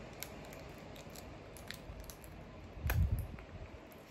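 Serum package being torn open with teeth, a soft crinkling rip followed by a louder burst of tearing and chewing-like crunch near the end, close up over quiet room tone.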